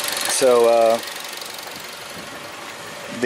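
A car engine with about 183,000 miles and a lit check engine light idles steadily, heard through listening-device microphones on top of the engine and at the drain plug; someone briefly speaks over the engine's even hum.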